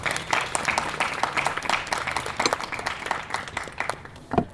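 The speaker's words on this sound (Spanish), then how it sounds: "Pido un aplauso aquí para el autor." An audience at a book presentation in a bookshop applauds the author with dense, steady clapping that carries on throughout, close and fairly loud, tapering off at the end.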